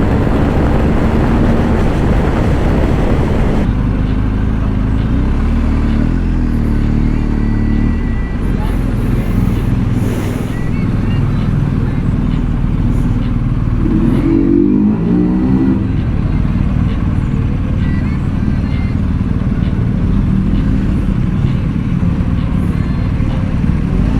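Inline-four motorcycle engines rev at a busy bike gathering at Hill Park where a BMW 1250 GSA is present, a loud rumbling drone with rising throttle blips midway, under wind and nearby chatter.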